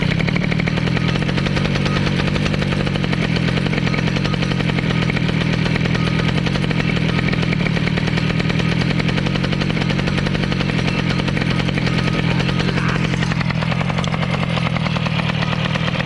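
Honda Vario scooter engine started and revving loudly, a dense continuous motor roar held throughout with little change, close by and with no talk over it.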